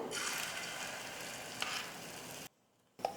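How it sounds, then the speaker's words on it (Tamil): Beaten egg for an omelette frying in a little oil on a hot dosa griddle, giving a steady, moderately loud sizzle with a faint tap, briefly dropping to near silence before resuming. "கல் நல்லா சூடு இருந்ததும் கொஞ்சமாக எண்ணெய் சேர்த்துட்டு ரெடி பண்ணி வச்சுருக்கிற முட்டையை சேர்த்துக்கிறேன்"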